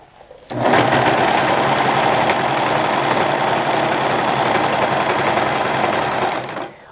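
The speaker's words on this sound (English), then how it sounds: "continue serging while very gently pulling the scrunchie away from the serger" A serger overlocker runs fast and loud without pause, sewing a scrunchie seam with a dense mechanical whir that starts suddenly and cuts off near the end.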